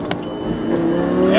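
A Lamborghini Gallardo LP560-4 engine rises steadily in pitch and volume as it accelerates, a loud, close growl heard from inside the car in one short continuous pull.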